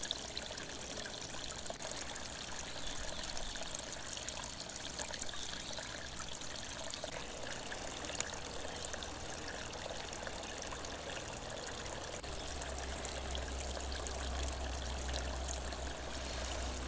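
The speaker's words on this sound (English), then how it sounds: "the woodland streams were running full" Woodland streams in the Oxford Hills of western Maine run full after heavy rain, a steady, even rush and trickle of water that continues without a break, moderately near and unaccompanied.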